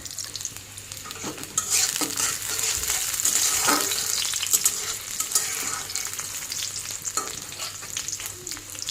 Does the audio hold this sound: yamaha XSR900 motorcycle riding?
no